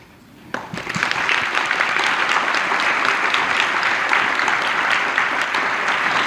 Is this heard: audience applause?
yes